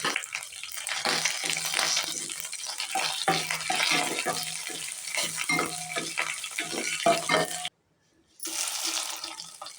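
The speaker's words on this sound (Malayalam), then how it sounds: "ഇനി ഇതിലേക്ക് 1 ടീസ്പൂൺ കടുക്, 2 വറ്റൽമുളക്, കുറച്ച് കറിവേപ്പിലയും കൂടി ഇട്ട് മൂപ്പിച്ചെടുക്കാം." Mustard seeds, dried red chillies and curry leaves crackle and sizzle in hot oil for a bottle gourd pachadi, a steady close frying hiss with spattering pops and stirring, cut by a brief silence near the end.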